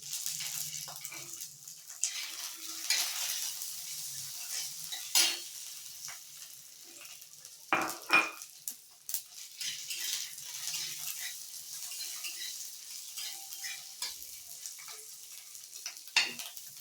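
Green chilies frying in a pan for a chukkakura pachadi alongside dried red chilies, a steady soft sizzle with occasional stirring scrapes and utensil clinks, moderately close.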